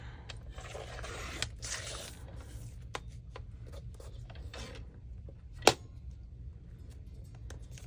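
Scissors cutting through packaging paper for a junk journal, a soft scraping, rustling crunch in short strokes with a few small clicks and one sharp snap near the end, quiet and close.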